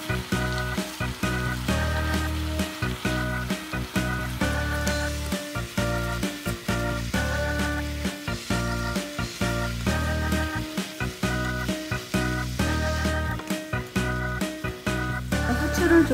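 Spinach and meat stir-fry in sauce in a hot pan, sizzling loudly and steadily, with regular rhythmic scraping and tossing of a utensil throughout.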